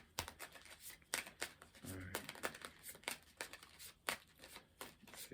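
Quick, irregular riffles and flicks of tarot cards being shuffled close by, with a brief low murmur in the middle.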